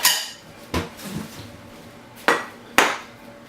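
Plates and dishes clatter while cheesy garlic bread muffins are plated: a sharp clink near the start, then a couple of louder, ringing knocks of crockery close by, with no talking.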